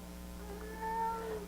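A cat gives a soft, drawn-out meow that bends downward, faint against a low steady background hum.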